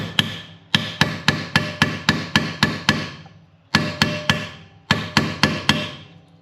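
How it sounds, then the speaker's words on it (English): A hammer taps an extractor bit into a part during a Mitsubishi Evo 8 engine rebuild. The sharp metallic strikes come close and loud in three quick bursts of about eight, three and four blows, with short pauses between. "So what we're gonna do is grab a hammer."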